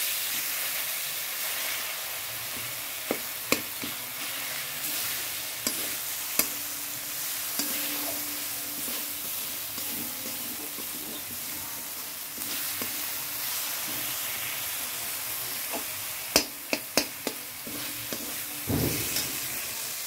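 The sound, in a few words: tomato and spice paste frying in a pan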